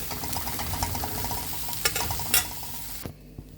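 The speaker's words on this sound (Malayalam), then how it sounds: "നല്ലപോലെ ബ്രൗൺ കളറാവണമേ നമുക്കിതൊന്ന് വറുത്തെടുക്കാം." Dried prawns frying in a pan, a continuous crackling sizzle close up, with a few sharper scrapes and clinks from stirring before the sizzle drops away near the end.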